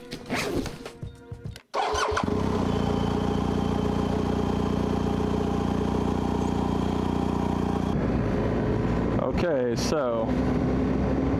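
A motorcycle engine fires up after a short spoken remark, then runs with a loud, steady mid-pitched drone, followed near the end by a few revving swells.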